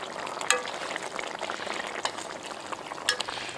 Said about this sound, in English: After a minute, we're gonna flip them over